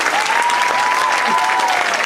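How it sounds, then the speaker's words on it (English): An audience at a middle school awards ceremony applauds the standing 5th grade orchestra, with dense, steady clapping throughout and a faint sustained tone running underneath. "Yes, applaud them."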